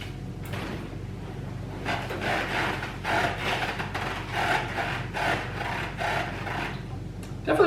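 A Seat Concepts low seat on a Tenere 700 motorcycle squeaks and rubs as a rider settles onto it, with repeated creaking and scraping strokes close by and no speech.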